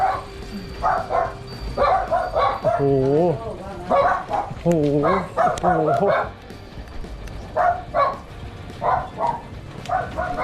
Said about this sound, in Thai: หมาเห่าเลยอะ่ะ